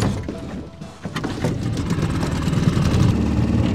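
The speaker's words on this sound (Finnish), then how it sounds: "Hyväoloinen moottori on kyllä tämä Tohatsu U6-heppan." A Tohatsu 6 hp outboard motor runs on a boat in Norway, a steady loud droning hum mixed with wind and water rush, growing slightly stronger as it goes.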